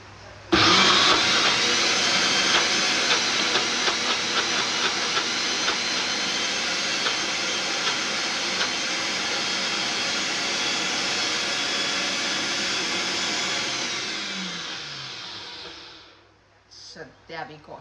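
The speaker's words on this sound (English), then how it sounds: "Now I'm going to blend this one as well" A blender blending chocolate icing runs with a loud, steady motor whir for several seconds, then winds down and stops, leaving brief clatter.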